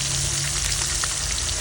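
Hilsa fish frying in hot oil in a pan, a loud, continuous sizzle with a low underlying rumble, close and steady throughout, with no talking.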